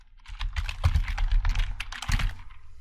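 Fingers typing on a computer keyboard while entering a line of Python code, a close, steady run of quick key clicks with a few heavier strokes, no talking.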